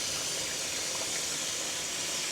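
Running water rinses fresh garden tomatoes in a sink, a steady, close, broadband wash with no talk.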